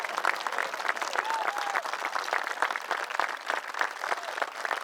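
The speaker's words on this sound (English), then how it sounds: "I'm going to ask for a round of applause for the Boy Scouts here who have done a wonderful job." A crowd at an outdoor bell tower dedication ceremony applauds the Boy Scouts, a sustained patter of many hands at moderate distance, with faint murmurs and a brief whistle-like tone partway through.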